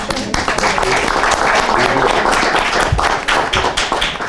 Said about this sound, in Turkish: Alkışlıyorum seni.